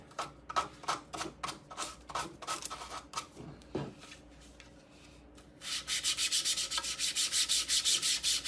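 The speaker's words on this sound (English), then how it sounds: "You can use sandpaper to clean up your edges." Sandpaper rubs along the edges of a 3D printed model part, close scratchy strokes in a quick rhythm, slower at first, then a pause, then fast bright repeated rasping.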